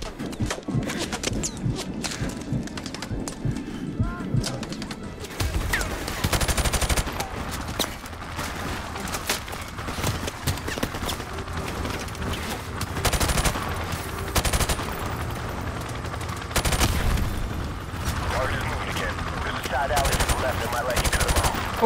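Sustained gunfire rattles through a Call of Duty: Modern Warfare Remastered firefight, with bursts of machine-gun and rifle shots and sharp cracks piling up loudly over the action while voices call out.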